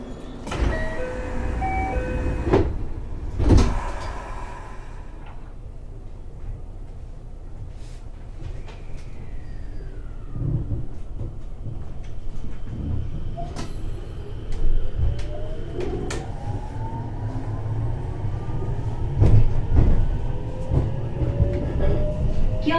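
A JR 521 series local train on the Hokuriku Line departs Fukui station, heard from on board: a steady low rumble with door and mechanical clunks, and rising electric motor whines as it accelerates.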